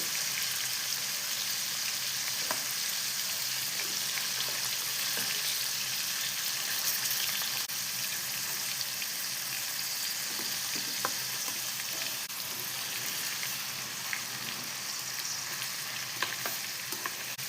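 Paneer cubes frying in hot oil for a Chennai-style paneer biryani, a continuous close crackling sizzle with scattered sharp pops throughout.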